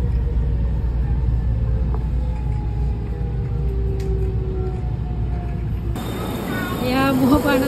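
Interior of a train leaving Shin Osaka Station, a steady low rumble of wheels and motor with faint tonal whines, continuous and fairly loud, with a brief chime-like tone near the end.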